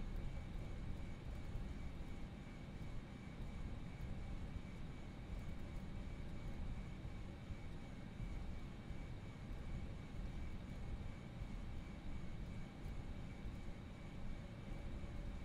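A steady, low engine hum and rumble from an FSLabs Airbus A319 taxiing along a runway in the P3Dv4 flight simulator, with a constant drone and faint tonal whine and no talking.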